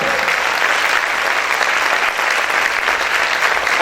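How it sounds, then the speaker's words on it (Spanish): Church congregation applauding loudly during a sermon: a thick, continuous wall of clapping, close and full, with no break. "Este aplauso es para el Señor, déselo fuerte."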